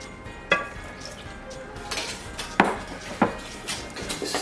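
Spoon clinking against a bowl while butter is stirred into pecan pie filling, a few sharp separate taps spread irregularly over soft scraping, close by with no talking.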